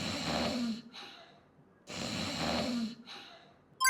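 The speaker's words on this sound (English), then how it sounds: "snore" A person snores, two long, raspy, noisy breaths a couple of seconds apart with quiet between them, close up, ending in a brief sharp sound.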